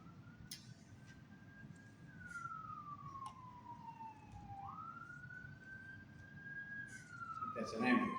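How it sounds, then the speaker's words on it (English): An ambulance siren passes outside, a long wailing tone that sweeps up and down in slow cycles, moderately distant, with a low background rumble and a brief burst of noise near the end. "That's an ambulance."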